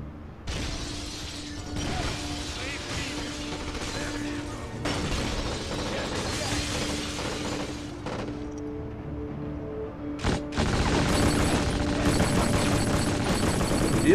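Gunfire in the PS2 shooter Black, with loud bursts and bangs running throughout alongside mechanical clatter and a steady game tone, growing denser and louder toward the end.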